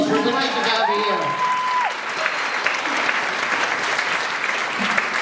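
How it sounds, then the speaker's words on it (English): Audience applause at a Rose of Tralee event, sustained loud clapping from a crowd throughout, with a voice briefly heard early on under the applause. "Give them a big round of applause."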